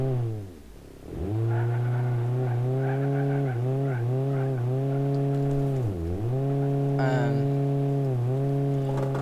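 A car in the BeamNG driving game, a hatchback mod, holds a loud, steady engine drone that rises and falls in pitch as it revs, with sharp tire squeal and skidding over the top. No voices are heard.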